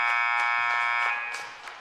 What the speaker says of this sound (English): buzzer sounds. And the end of the contest.